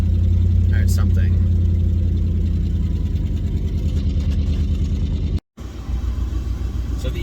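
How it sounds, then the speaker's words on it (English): Engine of a 1986 Mercury Grand Marquis wagon idling and warming up with the air conditioning on full blast, a close steady low rumble heard from inside, with someone speaking over it and a brief cutout near the end. "I'm sitting here letting it warm up, and I got the air conditioning on full blast"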